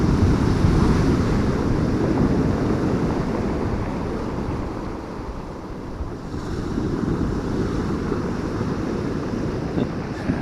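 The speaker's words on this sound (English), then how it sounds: "these waves, look at them" Sea waves break continuously against the Holderness coast below a cliff at Hilston, a loud, rough surf roar mixed with heavy wind buffeting the microphone, with no speech.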